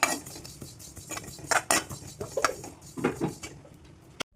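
Sesame seeds stir-fried in a hot wok (kadai), with a spatula scraping and clinking against the metal in irregular bursts of close, bright rattles and taps, no voices.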